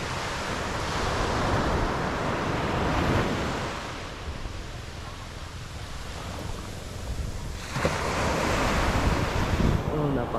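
Sea surf rolls onto a white-sand beach at Pundaquit, Zambales, a steady broadband wash with wind buffeting the microphone, swelling and easing over several seconds before a fresh loud surge near the end.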